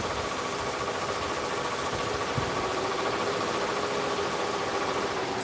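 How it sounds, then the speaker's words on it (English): A sewing machine runs steadily while blankets are stitched, a constant close mechanical hum and whir with no pauses and no voices. "I need to start sewing blankets."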